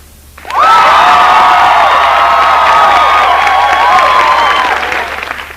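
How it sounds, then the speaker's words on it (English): A loud burst of canned applause from an applause button, with a dense crowd clapping and cheering that holds steady for several seconds, then tapers off. "I'm holding down the applause button, Deborah."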